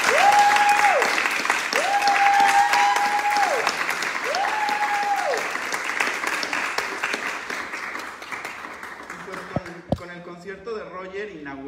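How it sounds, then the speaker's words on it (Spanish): A concert audience at the Embassy of Mexico in Madrid breaks into loud sustained applause with some whistles for a singer-songwriter, tapering off toward the end as a voice begins speaking. "Un aplauso, por favor,"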